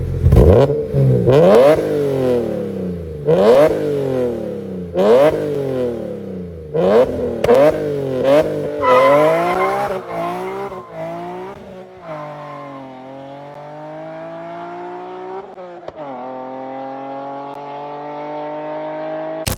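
A BMW E46 M3 engine with a 6-into-1 exhaust revs hard again and again with a raspy, roaring, V10-like note, rising and falling in rapid bursts before settling into a rumbling idle.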